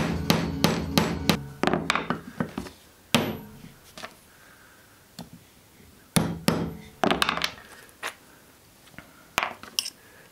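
A long threaded insert nut is hammered into a drilled hole in wood, with sharp, close hammer blows coming in quick clusters separated by pauses, the strikes thudding as the nut seats.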